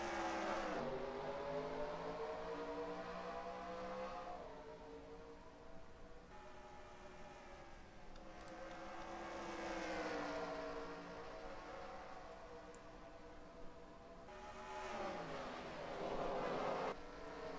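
Stock cars race at Richmond in the game NASCAR Racing 2003 in an ARCA series event, several engines whining and rising in pitch in repeated sweeping passes that build and fade, fairly faint and without talk.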